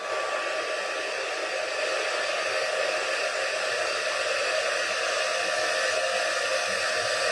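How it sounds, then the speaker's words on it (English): A heat gun used for heat embossing a card blows a steady, loud, continuous whooshing hiss up close, unbroken for the whole stretch with no talking. "I will pop and now heat emboss this."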